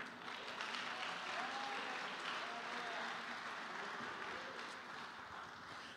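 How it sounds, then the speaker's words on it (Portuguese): Church congregation applauding during a Portuguese-language sermon, a steady broad wash of clapping lasting the whole stretch at moderate level, with a few faint voices mixed in. "Você pode aplaudir o Senhor?"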